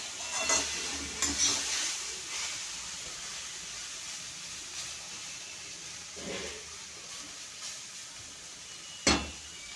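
Leafy greens stir-frying in a pan, a quiet continuous sizzle with intermittent scraping stirs and one sharp knock near the end, close and without voices.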